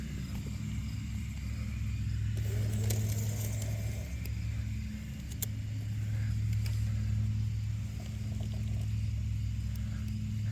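A garden-scale model train with a single motor block runs along an outdoor track, giving a steady low mechanical rumble and hum throughout with light clicks and rattles, fairly close and without talk.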